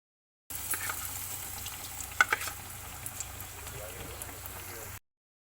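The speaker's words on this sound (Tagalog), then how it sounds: "At ilagay na po natin ang saging para ito'y maprito na." Banana slices for maruya, Filipino banana fritters, fry in hot oil with a steady, even sizzle, broken by a few brief pops and crackles midway.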